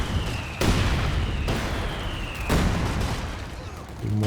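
Mortar barrage in the strategy game Company of Heroes 2: three heavy explosions land at roughly one-second intervals, each a sharp loud crack with rumbling decay, followed by lingering battlefield noise.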